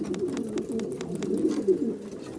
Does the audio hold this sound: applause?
no